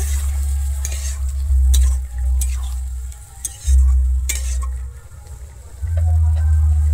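Mustard and green chilli paste being mixed with a little water for a raw tomato jhal, loud rhythmic swishing and scraping strokes of a spoon in a bowl with occasional light clinks, close and continuous.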